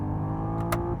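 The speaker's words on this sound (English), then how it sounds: "Like the 5N, you still have the simulated engine noises." A Hyundai Ioniq 6 N electric car's simulated engine sound hums steadily with layered tones, like a car motor idling, with a brief hissy burst near the end.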